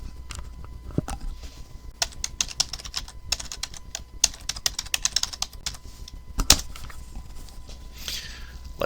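Fingers type on a computer keyboard while entering login credentials, an irregular run of sharp close key clicks with short pauses and a few heavier keystrokes, no talking.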